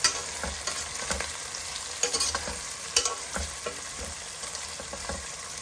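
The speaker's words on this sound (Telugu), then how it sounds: "ఉల్లిపాయలు చక్కగా వేగిపోతున్నాయి" Green chilies and onions fry in a pan with a constant hiss of sizzling oil, broken by repeated clinks and scrapes of stirring, close and fairly loud.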